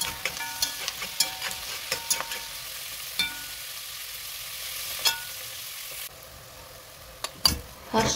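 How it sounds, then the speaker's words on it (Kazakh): Diced carrots and onions fry in oil in a pan, giving a continuous soft sizzle broken by repeated sharp spoon clicks and scrapes as they are stirred. "Сәбізді салып 5 минуттай қуырамыз."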